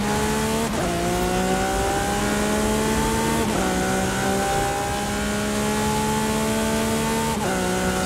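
Race car engine at high speed in Forza Horizon 5, a loud sustained high-pitched whine held steadily, with brief dips at gear shifts every few seconds.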